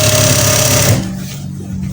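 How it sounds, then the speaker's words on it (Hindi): Sewing machine stitching lace onto a girl's frock, a close, steady mechanical whir that stops abruptly partway through, leaving a quieter background. "इस तरीके से हम इसको इसके साथ रखेंगे और सिलाई लगा लेंगे"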